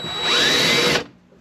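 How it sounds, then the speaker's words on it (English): A power drill bores a hole for a water line, a loud high whine that spins up quickly, holds steady for under a second, then cuts off abruptly, leaving faint room noise. "Start a drill hole."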